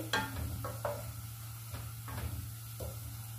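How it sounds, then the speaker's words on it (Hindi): Onions frying in a pan with whole garam masala of black cardamom, green cardamom and cinnamon, a light sizzle broken by a few sharp stirring clanks and scrapes against the pan, no talk over it. "प्याज को गोल्डन ब्राउन करेंगे"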